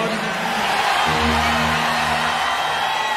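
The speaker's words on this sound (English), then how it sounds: "you sound like a very energetic crowd" Live concert crowd at a thrash metal show cheering and whooping, a loud, continuous roar of many voices with a sustained bellowing shout rising out of the mass in the middle.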